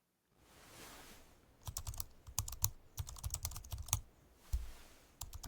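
Keyboard typing heard alone: after a brief quiet hiss, bursts of quick, close key clicks come in uneven runs with short pauses between them.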